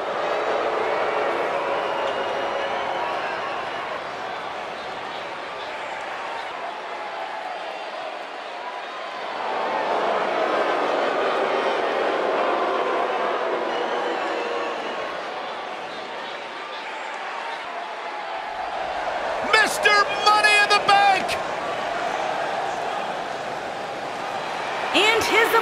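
Simulated arena crowd noise from a WWE 2K19 wrestling match, a steady roar of cheering that swells and dips over the whole stretch, with a brief burst of sharper whistling or shouts near the end.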